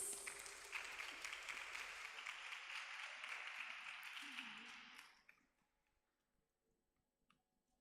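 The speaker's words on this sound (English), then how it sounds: "Okay, give applause, please." Applause from a symposium audience for a moderator, a broad steady patter of many hands that fades out after about five seconds, leaving a quiet room with faint ticks.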